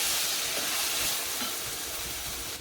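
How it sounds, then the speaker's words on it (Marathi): Figs (anjeer) sautéing in a pan for katli, a soft steady sizzle and frying hiss running throughout with faint stirring, no voices. "चांगला अंजीर परतून घ्यायचं"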